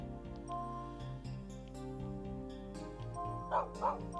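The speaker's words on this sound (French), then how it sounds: "Oh, un toutou" A dog in the Spelunker video game on Nintendo Switch gives two short yips near the end, heard over steady, busy game music.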